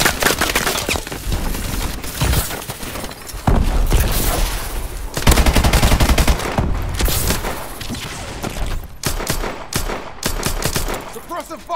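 Heavy video-game gunfire in Exo Zombies, dense bursts of automatic shots and booms filling the scene, loud and continuous with brief lulls between volleys.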